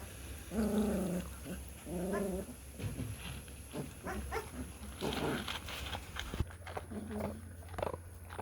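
A puppy lets out several short, harmonic yips and barks with low growl-like rumbles between them, loud and close, in a quiet room.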